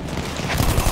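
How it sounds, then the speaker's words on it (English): Gunfire rattles in the video game Battlefield 1 as a dense, loud burst of rapid shots filling the short moment, close and harsh with no talk over it. "Keep shooting, AJ."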